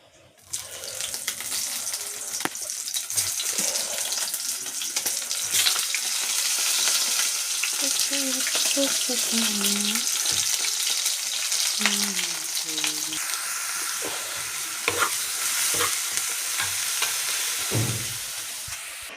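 Fish chochchori with tomato fries in a pan, a loud steady sizzle running throughout with stirring scrapes and clinks, and a voice talking briefly in the middle.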